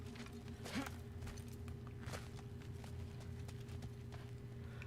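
Hooves of a horned steed plod along in the God of War Ragnarok video game, a faint, irregular clip-clop over a low background hum.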